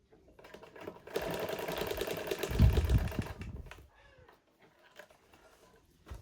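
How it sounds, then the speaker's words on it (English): Domestic sewing machine stitching a straight line down a skirt dart with no backstitching, a steady motor whir that starts after a second, swells for about three seconds, then stops, leaving faint handling noises. "So I'm going to sew it down the straight line, and I'm not back stitching."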